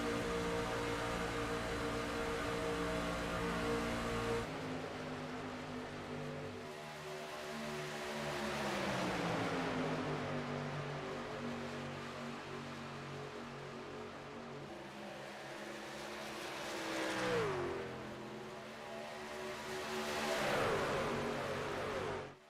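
Racing trucks in a video game pack together at the Daytona superspeedway, their engines droning steadily with rising and falling pitch as the pack passes and catches a lapped truck, with no talk heard.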